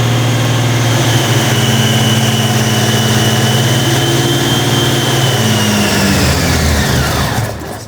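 Toyota Land Cruiser engine idling loudly and close with a steady drone and uneven misfire beats, then dropping away near the end.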